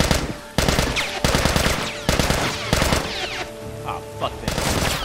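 Rapid bursts of gunfire from The Last of Us video game, sharp repeated shots clustered into several volleys across the moment, loud and close, with a player's voice reacting faintly underneath.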